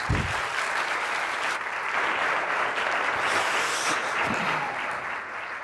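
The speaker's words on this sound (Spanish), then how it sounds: "Voy a pedir un aplauso para el que suba al escenario" Conference audience applauding a speaker in a hall, sustained broadband clapping from many hands that stays even and loud throughout.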